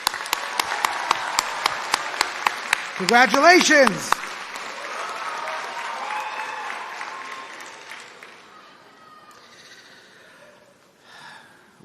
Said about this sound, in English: Once again, my personal round of applause for all the graduates.